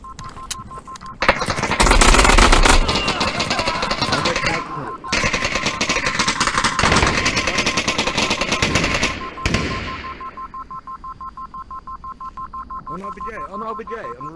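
Gunfire in the VR tactical shooter Onward on an Oculus Quest 2, loud sustained automatic bursts in long rapid runs with brief gaps, and a voice talking over parts of it.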